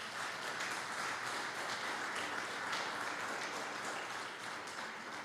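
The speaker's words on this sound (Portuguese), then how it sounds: "Você pode aplaudir ao Senhor por isso?" Congregation at a church service applauding, a steady wash of many hands clapping across the whole stretch, moderately distant and fairly quiet, with no voices standing out.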